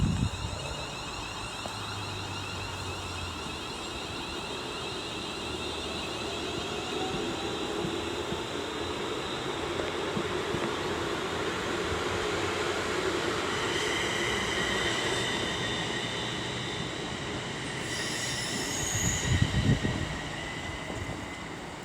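A West Midlands Railway class 350 electric multiple unit pulls into Rugeley Trent Valley station on the West Coast Main Line, a long steady rolling hum with faint wheel squeal and wind, brakes hissing near the end.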